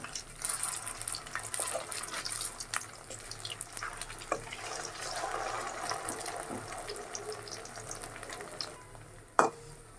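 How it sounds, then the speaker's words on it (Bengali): Potato snacks fry in a pan of oil with a continuous crackling, bubbling hiss that swells and fades slightly, ending with a sharp clink of a utensil. "আমি তিনটা করে ভাজবো"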